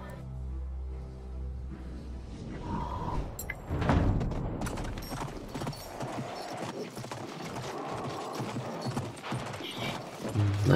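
Horse hooves clip-clop steadily in a multiplayer shooter video game, Call to Arms, a continuous galloping rhythm mixed with game effects and a few distant booms, moderately loud throughout.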